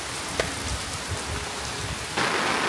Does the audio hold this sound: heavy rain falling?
yes